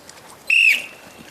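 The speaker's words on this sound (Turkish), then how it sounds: "süreni 2 dakikayı düdük sesiyle başlatıyorum" A single short, sharp whistle blast rings out clearly over faint room noise.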